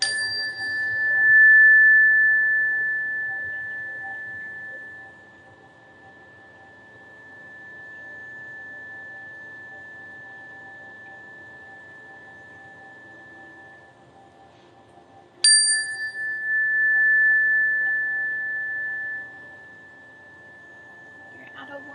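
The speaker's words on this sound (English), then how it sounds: "Let's go through with our chime." An electronic chime rings out as a sustained bright tone, struck once near the start and again about fifteen seconds later, each ring fading slowly and fairly loud against a quiet room.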